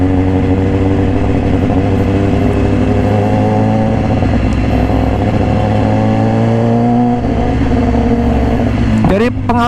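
A 2018 BMW S1000RR in racing red with an Austin Racing exhaust cruises at a sustained loud, raspy engine note, its pitch rising slowly under acceleration and then dropping with a quick rev change at the close.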